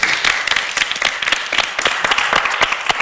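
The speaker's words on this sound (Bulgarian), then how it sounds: "Аплодисменти." Studio audience applauding on a Bulgarian Music Idol talent show, a dense, steady burst of clapping that carries loudly through the whole stretch with no voices over it.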